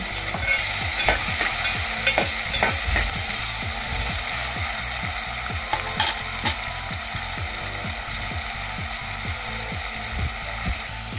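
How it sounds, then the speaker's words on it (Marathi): Steady sizzling of tomato sautéing in hot oil for a cauliflower potato curry, with a regular rhythmic scraping of a spatula stirring throughout, close and fairly loud. "आणि हे मिनिटभर परतून घ्यायचं।"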